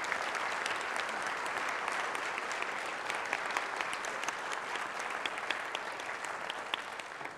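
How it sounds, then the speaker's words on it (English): Steady applause from a conference audience of nursing professionals, a dense, continuous patter of many hands clapping at even loudness throughout, with no voices standing out. "we could show them your applause as that debt of gratitude"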